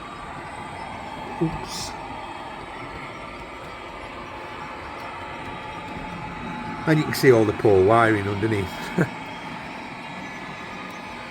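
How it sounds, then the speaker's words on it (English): A model railway train runs around a layout with a low, steady rumble, while someone talks over it. "See a train going round now, that's just come from this bottom area."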